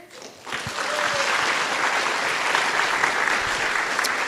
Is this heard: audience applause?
yes